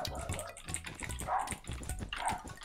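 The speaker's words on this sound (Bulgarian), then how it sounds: "това куче не спира, боже!" In the Minecraft video game, a dog barks in short, repeated yelps over steady keyboard clicks, moderately loud and near, with no voices.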